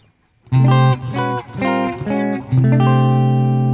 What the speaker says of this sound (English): This is the neck pickup with both coils in series and an additional coil from the bridge pickup